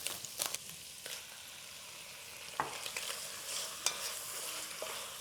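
Calamari and shrimp cooking together in a pan, a soft steady sizzle with occasional clinks of a utensil stirring, fairly faint throughout.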